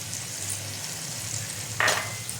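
Ground spice masala with salt frying in a pan for a Bengali tilapia curry with bori and potatoes, a steady low sizzle with one brief louder hiss of stirring near the end.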